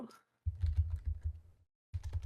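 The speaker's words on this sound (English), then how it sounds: "it's Kermit typing" Computer keyboard typing during an online group chat, two close bursts of rapid, uneven key clatter separated by a short pause, with no talking over it.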